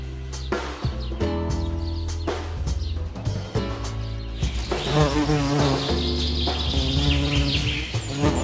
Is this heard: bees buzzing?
yes